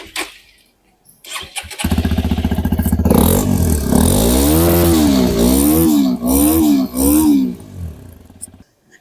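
A Hero Xpulse 210 motorcycle starts up close by, then its exhaust barks through several rising and falling throttle revs before settling back and cutting off.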